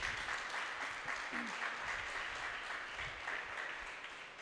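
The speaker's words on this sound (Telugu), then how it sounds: "గట్టిగా చప్పట్లు కొడతాం దేవుడికి" A church congregation at a Holy Communion Sunday service breaks into loud, sustained applause, a dense wash of many hands clapping that fades slightly toward the end.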